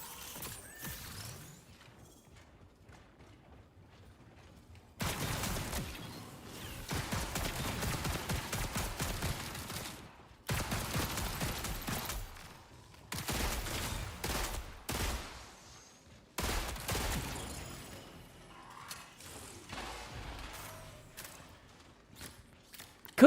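A battle pistol fires in short bursts during video game play, with clusters of sharp, rapid shots in separate bouts between quieter stretches, fairly faint overall.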